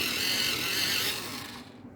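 A coloring pencil is sharpened, a close, brief scraping grind that thins out and fades toward the end.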